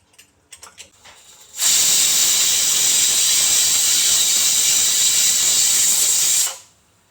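A pressure cooker boiling chicken with chana dal lets out a loud, continuous steam hiss lasting about five seconds, then cuts off abruptly, after a few faint clicks and knocks.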